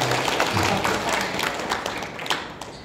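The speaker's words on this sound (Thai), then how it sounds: "ปรบมือให้ท่านหน่อยครับ" An audience at a discussion event about studying abroad applauds a speaker, individual claps audible within the group clapping, loud at first and then gradually thinning and fading.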